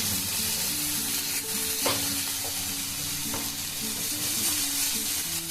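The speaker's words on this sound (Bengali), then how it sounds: "এবারে এটাকে আমি খুব ভালো করে কষিয়ে নেব।" Bitter gourd pieces with spices fry in a hot pan, a steady loud sizzle running throughout with scraping stirs of a spoon breaking through now and then.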